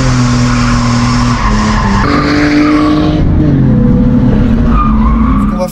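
BMW E36 on a race circuit, a loud engine revving hard with tires squealing and skidding, the pitch dropping as the driver shifts up into third gear, then climbing again, with no voices.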